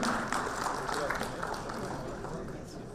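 A crowd at a pharma awards ceremony applauds steadily for three seconds, a dense, even wash of clapping with a voice faintly audible beneath it.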